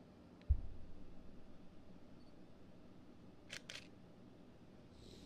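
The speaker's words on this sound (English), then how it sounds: "the shutter's getting a little bit slower at this point." A camera shutter fires at a slower shutter speed, giving a faint quiet click followed by a soft double snap a few seconds later in an otherwise quiet room.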